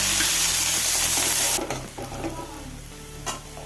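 Chopped onion added to hot oil with crackling mustard seeds and cumin, a loud steady sizzle that drops suddenly as the onion goes in, then softer frying with a few stirring scrapes.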